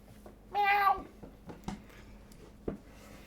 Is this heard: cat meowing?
yes